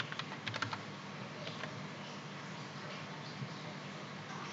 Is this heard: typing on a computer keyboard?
yes